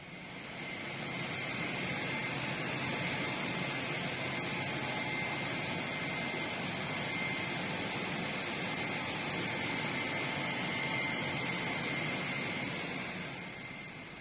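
Aircraft carrying released Iranian prisoners of war out of Iraq in 1984, marked with red crosses: a steady, loud engine roar with a whining tone, holding constant throughout with no voices.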